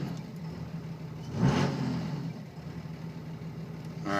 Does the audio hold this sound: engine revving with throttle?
yes